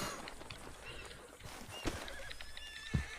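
A horse in a video game whinnies with high wavering calls, while hoof clip-clops and a couple of sharp thuds sit in a faint, busy game background.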